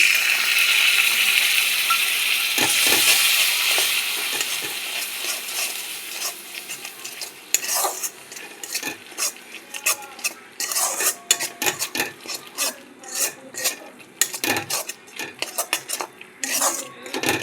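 Spices with sour curd and salt stirred in a pan, a soft sizzle at first giving way to loud, uneven metallic scrapes and clinks of a spoon against the pan, close and busy, with no talking.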